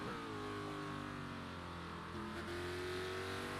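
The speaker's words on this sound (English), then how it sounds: "Sounds like the exhaust is missing. yeah. It's making a lot of noise. I know it's a GT3 car" A GT3 race car engine with a loud exhaust drones steadily and continuously, close and strong, with a rich harmonic roar and slight pitch shifts.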